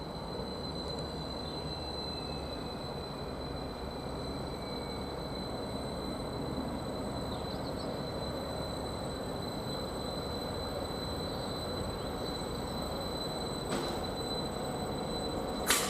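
A train idles at Bury St Edmunds railway station, giving a steady, low mechanical drone with a faint high whine, heard moderately close and unchanging throughout.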